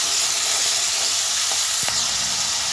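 Sliced onions and curry leaves fry in hot oil in a pan, giving a loud, steady sizzle with a few faint scrapes of stirring.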